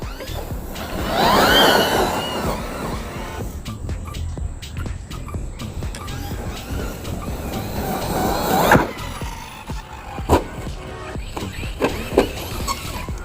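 A 4S-powered FMT10 RC truck churns through grass, its electric motor whine and tires rustling steadily at close range, with a few sharper bumps and thuds near the end.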